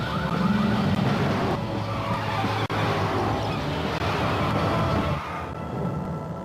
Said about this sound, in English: Introducing the new 320 horsepower V8 Cadillac STX.